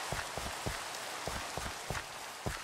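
Rain falls steadily in Minecraft, an even hiss of drops, while soft thudding footsteps land at a regular pace underneath; no speech.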